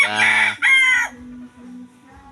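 A rooster crows loudly nearby in one strained, rising call that breaks off abruptly, followed by a few softer low clucks.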